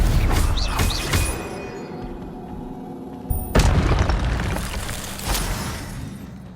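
Spell blasts from the Hogwarts Legacy video game boom loudly and close, with several heavy explosive bursts and rumbling tails, then a second big impact partway through followed by continued roaring combat noise.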